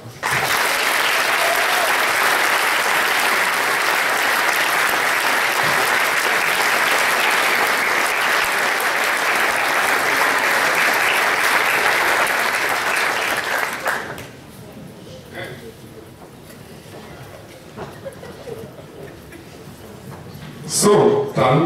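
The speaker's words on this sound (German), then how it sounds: "das ist euer Applaus" Audience applause closing a brass band concert by a music association, a dense, loud sustained clapping for about fourteen seconds that then cuts off abruptly to a quiet room with faint rustles.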